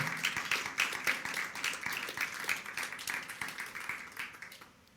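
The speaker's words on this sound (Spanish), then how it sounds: "Alguien dele un aplauso fuerte al Señor porque Él nos rescató" Church congregation applauding at a worship service, a busy patter of many hands clapping in a steady wash that fades out at the close.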